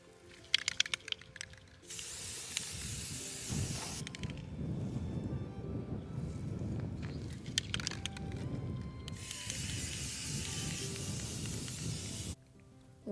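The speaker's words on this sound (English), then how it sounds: "spray paint the container, and I'm trying not to get the paint on the flowers" A spray paint can hisses in two long bursts over a garden container separated by quiet, with a few rattling shakes of the can before each burst, close by.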